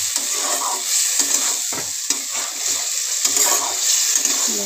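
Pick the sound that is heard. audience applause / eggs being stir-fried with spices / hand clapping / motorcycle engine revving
eggs being stir-fried with spices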